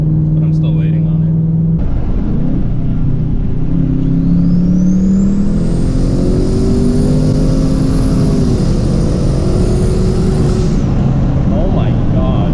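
A twin-turbo Ford Mustang GT accelerating hard, heard from inside: loud engine roar rising in pitch through repeated upshifts, with a high turbo whine above it and constant road and wind noise.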